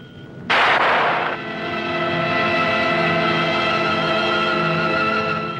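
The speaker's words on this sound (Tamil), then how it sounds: "துப்பாக்கி சத்தம் கேட்டது நீங்க சுட்டீங்களா" A single sharp gunshot-like blast cracks out, then gives way to sustained, droning dramatic music tones.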